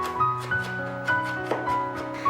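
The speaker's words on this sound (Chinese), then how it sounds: "切一小块姜" A knife chops a small piece of ginger on a cutting board, giving a series of sharp, close taps at an uneven rhythm against a steady low background.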